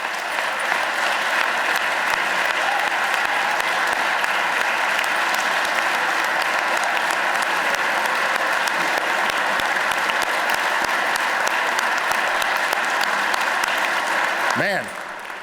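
Sustained audience applause in a legislative chamber during a Pennsylvania governor's budget address, dense, even clapping from a large crowd holding steady for about fifteen seconds before a voice cuts in at the end.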